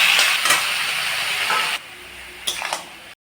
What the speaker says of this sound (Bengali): এবারে কচু শাকটা দিয়ে দেবো